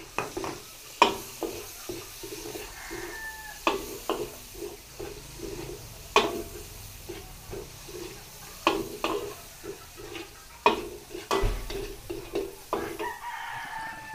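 Onions stirred in a sizzling pan during home cooking: repeated sharp scrapes and taps of a utensil over a steady fry, with a rooster crowing faintly in the background.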